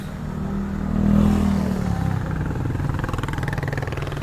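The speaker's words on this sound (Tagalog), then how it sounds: "ang galing ng motor ni ate oh" A motorcycle ridden by a woman revs close by, a low rumbling engine that swells briefly, then settles into a steady, slightly clattering idle, with no talk.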